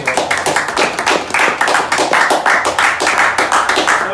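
A group of people clapping hands outdoors at a reality-show elimination, loud and close, with a fairly regular rhythmic pulse of individual claps running throughout.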